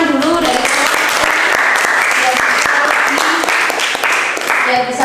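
Classroom applause from students after a group receives its score, steady dense clapping throughout with voices and cheering mixed in, loud and close.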